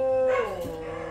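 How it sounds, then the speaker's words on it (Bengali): A dog whines with a rising, wavering howl that bends downward, close and fairly loud, a single drawn-out cry lasting about a second with no talking. "কুকুর কান্না করতেছে।"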